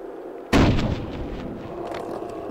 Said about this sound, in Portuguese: O tiro passa por mim.